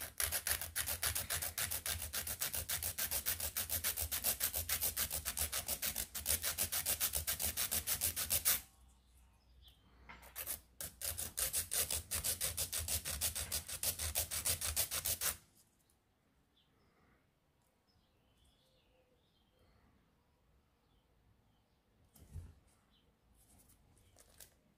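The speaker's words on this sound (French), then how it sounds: "On va tenir notre lime de biais pour limer." Nail file held at an angle rasping against a fingernail in a close, steady scratchy rubbing that runs continuously, briefly pauses, resumes, then gives way to faint scattered scrapes.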